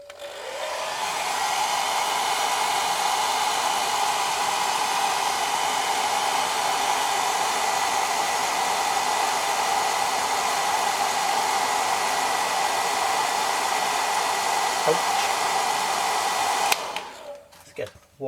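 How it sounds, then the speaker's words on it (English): A hair dryer blows steadily and loudly for most of the clip, then cuts off near the end. "soften it a little with my hair dryer"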